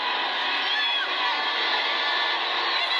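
Football stadium crowd at a match between Nepal and Myanmar, a steady dense roar of cheering and shouting from many voices, sustained at an even level throughout.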